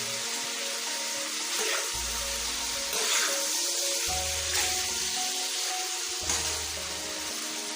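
Kaleji (liver) frying in ghee on a tawa over a medium-to-low flame gives a steady, even sizzle that continues without a break, with a soft background hum beneath it.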